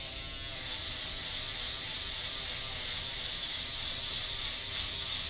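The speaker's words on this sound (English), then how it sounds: "I'm going to come with my Andy's Pro Foil shaver, and I'm going to start shaving this head off." Andis Pro Foil electric shaver running over a head during a haircut, a steady high whirring buzz that holds at an even level throughout, close up and alone.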